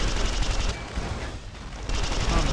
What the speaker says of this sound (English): I got a better Gatling laser